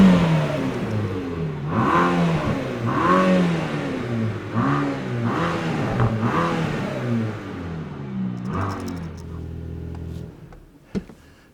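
A 2022 Mercedes AMG GT Black Series, 730 PS, revs hard in Race mode, loud and near, with several rising and falling roars that fade to a lower idle near the end.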